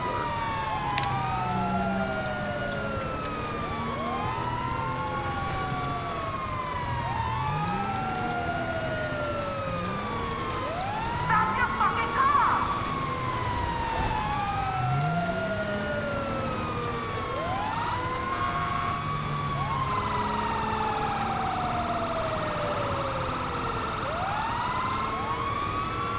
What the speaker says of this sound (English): Siren stays on and you can use your horn without accidentally turning off the sirens.